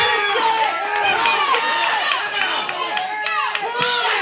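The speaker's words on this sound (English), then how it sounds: "The crowd's going crazy for Justin Key." Crowd at a weightlifting meet cheering for a lifter named Justin Key, a dense roar of many voices with shouts rising and falling, loud and continuous throughout.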